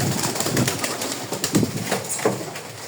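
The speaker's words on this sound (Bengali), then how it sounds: "আমি কাছে গেলে কবুতরগুলো উঠতেছে।" Pigeons stir in an old loft as someone walks close, giving soft cooing calls and scattered wing flutters over a steady, fairly close murmur of the flock.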